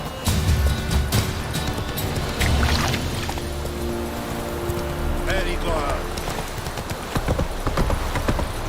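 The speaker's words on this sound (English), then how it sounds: "Not so fast, Roach. Slow now. Whoa" Horse hooves clip-clop in The Witcher 3 video game, a rapid, rhythmic galloping patter that slows toward a halt, with someone speaking over it and rain-like ambience in the background.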